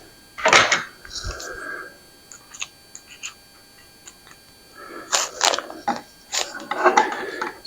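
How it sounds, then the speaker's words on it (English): A power driver sets self-tapping screws into an enclosure during assembly: short ratcheting, clicking bursts, one early and a cluster later, with small taps and handling noises in between, fairly close. "again, these are self-tapping screws. They don't have to be real tight. Just snug them down."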